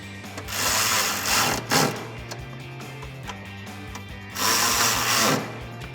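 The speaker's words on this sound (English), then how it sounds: "I can reinstall the two 10mm nuts at each corner of the bumper inside the fender well" A ratchet tightening 10mm nuts at the corners of the front bumper inside the fender well of a 2018-2021 Mustang: close bursts of quick clicking with a mechanical whir between them, and no talk.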